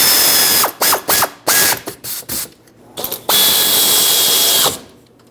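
A hand ratchet clicks in quick bursts while tightening brake bracket bolts on a 2018-2023 Subaru Crosstrek during a parking brake shoe job, with several short runs and then one longer steady run, loud and close, no talk.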